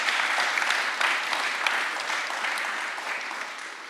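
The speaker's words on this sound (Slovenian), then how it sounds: "Tako da dajmo jim mogoče najprej en velik aplavz" Audience applause at a university award ceremony honouring the best innovation, a dense steady wash of many hands clapping that carries on for the whole stretch, fairly loud and evenly sustained with no one talking over it.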